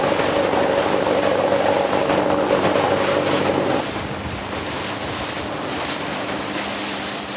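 A rescue motor boat heads along a river toward Nizhny Bestyakh, a steady broadband rush of hull, water and wind that drops in intensity partway through, with a faint engine drone beneath.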